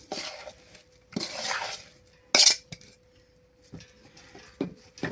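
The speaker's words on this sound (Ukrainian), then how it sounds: "Все це добре перемішую." Chopped zucchini with salt and onion is mixed in a bowl, with several separate bursts of scraping and clinking from a utensil against the dish, one sharper clatter in the middle and quiet pauses between.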